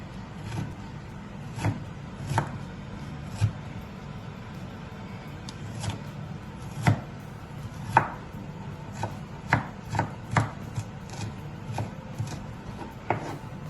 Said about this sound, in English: So what I'll do, I'll chop this and then I'll catch up with you again.